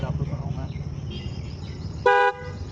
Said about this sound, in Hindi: बहुत ही प्यारा हॉर्न है, अगर आपको सुनाऊँ मैं